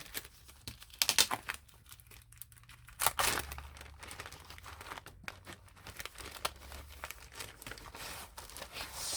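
A miscellaneous paper item being handled and crinkled, irregular crackling and rustling bursts close by, louder clusters early on and at the three-second mark, then quieter intermittent crinkles.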